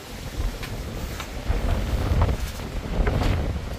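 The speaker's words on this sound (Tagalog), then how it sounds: "Sobrang lakas ng hangin dito." Strong wind buffets the microphone in rough, roaring gusts that swell and ease, with no voices.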